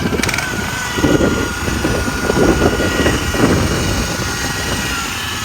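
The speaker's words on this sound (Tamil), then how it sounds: "அந்த வண்டி சாலையில் எப்படி வருதுன்னு காட்டுறோம் வாங்க" A rice transplanter's engine runs steadily as the machine drives along a road, a loud continuous rumble with rough, uneven surges and no speech.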